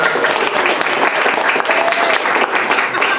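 Applause from the audience at a club meeting, steady and dense throughout, with a brief voice or two mixed in.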